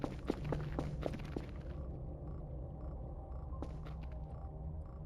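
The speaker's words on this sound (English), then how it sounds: "I definitely heard footsteps." Footsteps in the video game Voices of The Void: several quick, dull thuds close by at first, then quieter movement over a low ambient rumble, with no voices.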